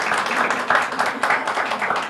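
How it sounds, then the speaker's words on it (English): Audience at a school district launch event applauding, a short steady burst of many hands clapping in a room, fairly loud and even without a clear ending. "You can applaud again."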